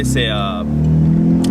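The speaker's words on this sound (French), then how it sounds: "pot d'échappement fait par CVP Customs" A Mazda MX-5 Miata engine fitted with a custom exhaust built by CVP Customs drones steadily and loudly at close range, with someone speaking over it at the start.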